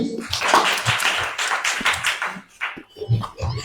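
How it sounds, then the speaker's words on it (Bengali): Applause at a children's drawing competition at a coaching centre, a small group clapping briskly and continuously at close range, with brief voices underneath. "মাওয়া চলে তালি দেই"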